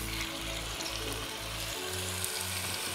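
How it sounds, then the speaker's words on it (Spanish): Pork ribs searing in a pan in a home kitchen, a steady close sizzle and crackle of frying meat running without pause, alone with no voices. "Y vamos a marcar la costillita"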